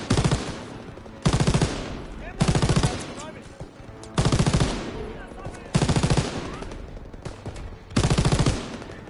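Rapid automatic gunfire in Call of Duty WWII, loud close bursts of about a second each repeating six times with short gaps, talk faintly underneath.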